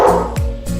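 A house dog barks a few quick sharp times, close and loud, with a yelping edge.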